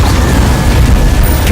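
The Incendio fire spell cast in Hogwarts Legacy produces a loud, dense low roar and whoosh that fills the short moment without pause, with no speech over it.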